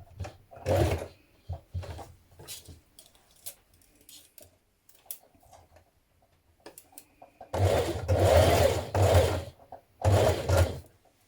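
A sewing machine stitches around the sleeve band of a boho dress in several short bursts, with quiet handling and pin-removal clicks between them, and a longer close whirring run near the end.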